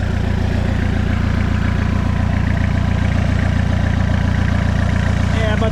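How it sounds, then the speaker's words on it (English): A diesel-powered Suzuki Samurai engine with new manifolds and a new turbo idles loudly and close, a steady low rumbling throb that runs unbroken throughout. "So we're gonna do that, fire this thing back up again,"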